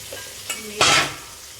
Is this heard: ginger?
yes